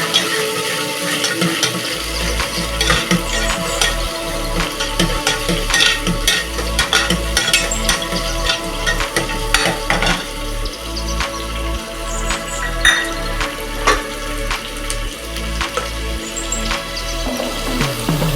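Field beans (avarekalu) frying in a pan for a fenugreek-leaf vegetable biryani, with steady sizzling and repeated scraping stirs of a spoon in a regular rhythm, close and fairly loud, no talking.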